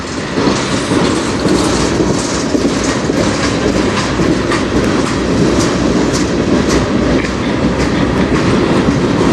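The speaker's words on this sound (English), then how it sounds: "Pretty good sized train." CN manifest freight train hauled by locomotives CN 3185 and CN 5629 on the Strathroy Subdivision, passing very close and loud, with a continuous roar and rhythmic clickety-clack of wheels over the track.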